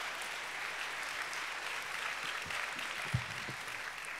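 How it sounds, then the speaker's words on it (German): A live audience claps together at a Christian youth festival Bible workshop, a steady, moderately distant wash of applause that holds evenly throughout, with no talking over it. "ihr könnt mal klatschen"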